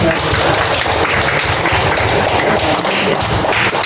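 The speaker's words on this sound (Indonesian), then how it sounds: "Tepuk tangan untuk semuanya." A school classroom of students applauds together in a steady, dense patter of many hands, loud and continuous throughout with almost no talk.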